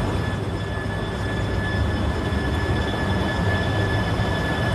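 Shinkansen bullet train on a test run in Japan, a steady, loud rushing rumble that holds evenly throughout with no voices.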